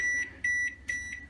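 An oven set to preheat at 300 degrees beeps three times in an even rhythm, each beep a short electronic tone heard close up over a low background hum.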